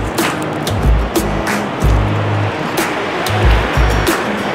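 Sea waves at Ladder Beach, Saipan, a steady broad rush of surf with periodic low thumps as swells break close by, continuous and fairly loud with no voices.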